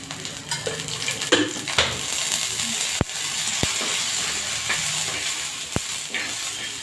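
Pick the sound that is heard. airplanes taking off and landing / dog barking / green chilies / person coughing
green chilies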